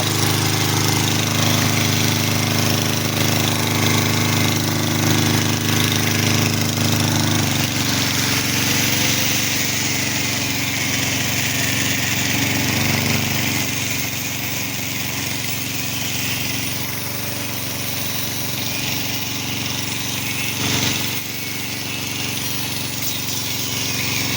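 Loud, continuous grinding roar of an angle grinder cutting, powered by a generator, steady throughout with a slight drop in pitch partway through, close by.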